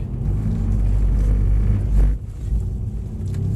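Mercedes-Benz car engine accelerating hard while drifting on a track, a loud deep rumbling roar that dips briefly midway and then picks up again.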